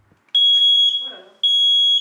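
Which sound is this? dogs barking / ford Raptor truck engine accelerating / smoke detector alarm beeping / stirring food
smoke detector alarm beeping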